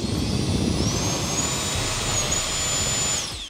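A single small electric jet fan runs at full speed, a loud steady whine with a high turbine tone over rushing air, then cuts off abruptly at the end.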